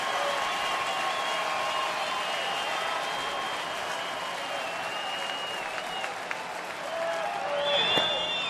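Big crowd roaring at a baseball stadium with two strikes on the batter, a sustained, loud, even wash of cheering and applause holding steady throughout, swelling slightly near the end.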